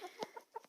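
Chickens on a farm yard, a hen and a young teenage rooster, give several short clucks and squawks close by, spaced in quick bursts with brief gaps between them.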